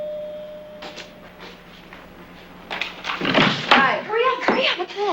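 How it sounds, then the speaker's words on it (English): A door bangs shut with a solid thunk partway through, surrounded by shuffling movement and people talking close by. "Shut the door."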